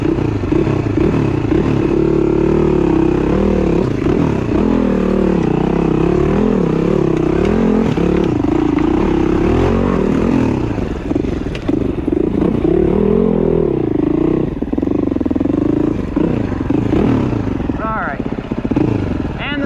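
An SSR 250 dirt bike engine labours uphill on a trail, loud and close throughout, its revs rising and falling steadily with clattering from the bike.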